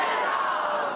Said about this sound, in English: The protest cries of tens of thousands echoing through the capital.